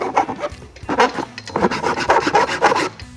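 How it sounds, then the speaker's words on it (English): A metal file rasps back and forth across a cut plastic bumper fascia on a 2022-2026 Subaru Outback, close rhythmic scraping strokes in quick repeated passes, with no talking. "Use a metal file to remove any frayed plastic or straighten up any cuts"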